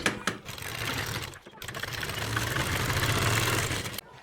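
A sewing machine stitching an umbrella plazo, its motor whirring in a steady rapid run that stops briefly after a few clicks, then resumes and cuts off sharply near the end.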